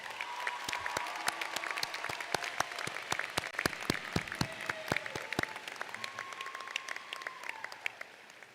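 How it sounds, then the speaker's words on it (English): An audience at a 2025 Daytona State College commencement ceremony applauds the faculty, with dense, steady clapping from a large crowd that continues throughout. "Graduates, let's give our faculty a well-deserved round of applause."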